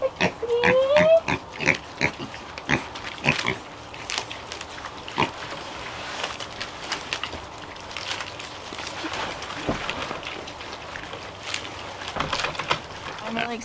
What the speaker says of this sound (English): I'm really excited to have a smaller pig,